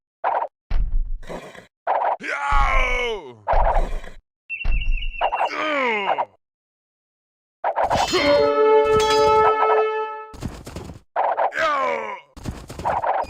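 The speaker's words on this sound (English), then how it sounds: "ring the town bell again to send them back to work" The town bell in Age of Empires 2 HD tolls with sustained, ringing harmonic tones, set among other short game sound effects, clicks and thuds separated by brief silences.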